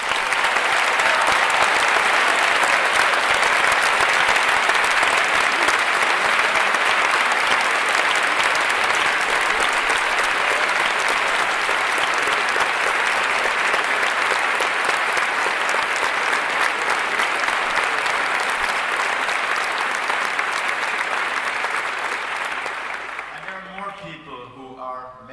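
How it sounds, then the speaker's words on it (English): Large conference audience at the CHI 2023 closing keynote applauding student volunteers; loud, sustained clapping runs for over twenty seconds before fading out at the end. "let's give a round of applause to"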